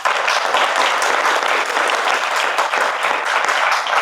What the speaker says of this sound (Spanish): Aplauso para Vasco, primer ministro de la producción.